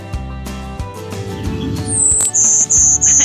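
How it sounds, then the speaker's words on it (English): Golden-winged warbler song: a high, buzzy phrase of a few repeated notes arriving partway through, fairly clear and loud over a steady low background hum. "So this one always sings that Z, B, B, B. So it has the Z and 3 B's."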